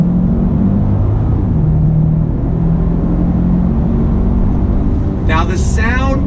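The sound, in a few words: Genesis G80 3.3T Sport driving away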